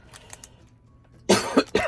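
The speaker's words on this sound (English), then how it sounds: "I'm coughing at least once in every video." After a quiet stretch with faint movement sounds, a man coughs three times close to the microphone, loud and abrupt, in a domestic room.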